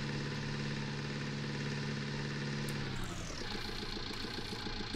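Tractor engine in Farming Simulator 19 idling with a steady mid-to-low drone and rattling vibration, its tone shifting partway through as it backs up, loud and close with no talk.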